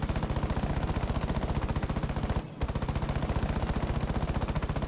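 Maestro's light machine gun in Rainbow Six Siege fires in long, rapid, evenly spaced bursts that stay loud and close, broken once by a very short pause, with no voices.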